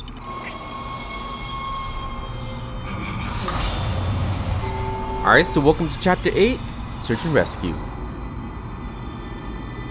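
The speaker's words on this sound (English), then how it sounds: "let's go ahead and get off this tram" A tram rides through a space-station level in the video game Dead Space, a low continuous mechanical rumble with metallic squeals and clanks, while someone talks over it.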